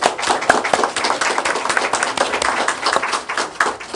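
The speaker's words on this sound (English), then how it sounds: "Give him a round of applause, ladies and gentlemen." Audience applause at a council meeting honoring a young man, with dense, steady clapping from a nearby crowd filling the full four seconds.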